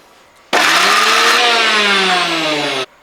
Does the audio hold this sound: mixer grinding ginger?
yes